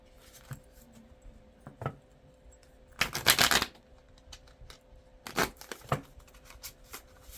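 A new oracle card deck is shuffled in two brisk riffling bursts of papery flutter, with a few soft taps and card handling between them, close up and without speech.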